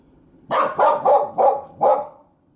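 A dog barks five times in a quick, fairly even series, each bark loud and close, with near silence before and after.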